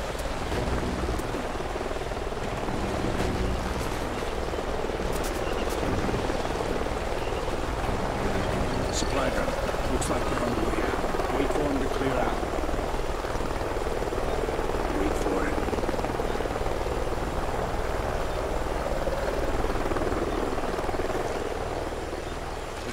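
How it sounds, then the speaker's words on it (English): A helicopter in the Call of Duty: Ghosts campaign mission "The Hunted" thrums loudly and steadily for the whole stretch, its dense rotor wash filling the scene with faint game ambience underneath. "Sounds like a chopper's up ahead of us."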